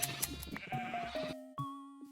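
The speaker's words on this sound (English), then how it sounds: "I went to shear my sheep." Sheep bleating while being sheared in Minecraft: a few wavering, nasal game bleats in quick succession over a busy backdrop of game sounds, close and fairly loud, with no talk.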